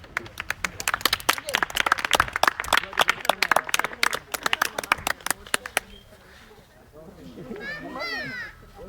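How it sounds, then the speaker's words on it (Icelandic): Hands clap in a quick, irregular patter for about six seconds at an Icelandic family reunion at a summer house in Laugarvatn, then stop as a voice and chatter take over. "Klappa!"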